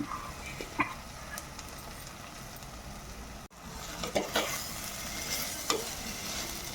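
Dried anchovies being stirred into a pan of frying masala and tomato give a steady close sizzle, broken by scraping spoon strokes and occasional clinks against the pan, with no voices.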